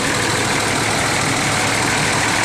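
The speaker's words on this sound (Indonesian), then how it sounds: "cek-cek kondisi mesin bus ya teman-teman ya" A bus engine idles at close range, a steady, loud, even rumble with a constant hum and no change in pace, heard alone without any talking.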